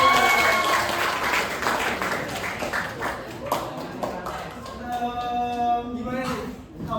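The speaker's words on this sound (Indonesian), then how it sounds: "Tepuk tangan." Participants at a group event applaud after a singer, a burst of clapping mixed with talking voices that thins out as a sung melody enters near the end.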